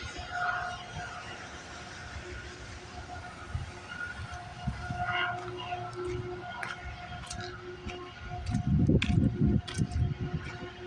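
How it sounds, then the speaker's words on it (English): A CN eastbound freight train rolls past on the line, a steady rumble with a horn-like tone, building to a louder, heavier roar near the end. "we got a CN eastbound train coming down the line"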